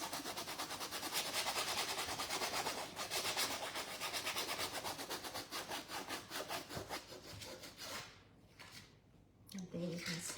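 Close, fast back-and-forth sanding strokes rub over a decoupaged, painted wood piece in a steady rhythm, growing more intermittent toward the end as a voice briefly speaks.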